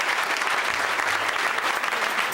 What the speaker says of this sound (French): Applaudis le Seigneur la plus fort.